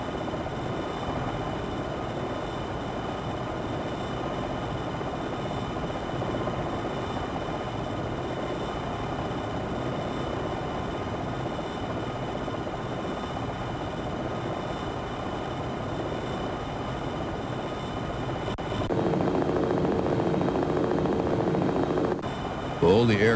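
An Apache Longbow helicopter flies in the combat flight simulator game Jane's Longbow 2, giving a steady, droning rotor and engine noise that runs throughout and briefly grows louder and shifts near the end.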